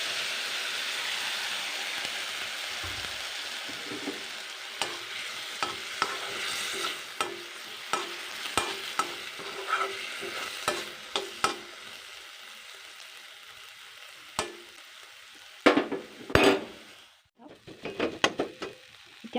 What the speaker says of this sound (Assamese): ইয়াতে মই অকণমান পানী দি দিওঁ তেতিয়া বিলাহীখিনি ধুনীয়াকৈ সিজি যাব গুড়া হৈ যাব